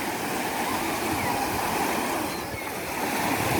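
Continuous rushing wash of small Aegean Sea waves breaking on a sandy beach at Güzelçamlı, Kuşadası, steady and fairly loud with no distinct pauses.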